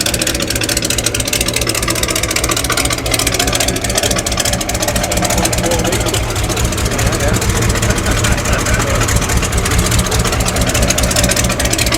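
Loud, steady idle of a classic car engine at a breakfast car meet on a chilly morning, a deep continuous throbbing rumble close by with no revving, and people chatting over it.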